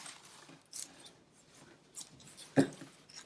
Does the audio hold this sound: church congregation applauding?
no